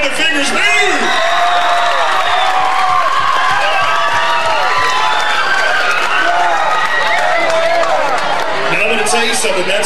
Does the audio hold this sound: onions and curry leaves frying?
no